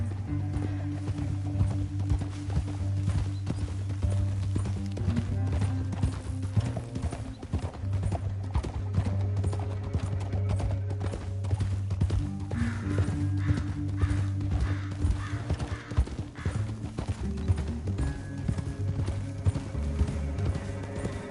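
Horse hooves clip-clop steadily throughout a ride in Red Dead Redemption 2, with occasional whinnies, over a continuous low musical drone and some mechanical clatter.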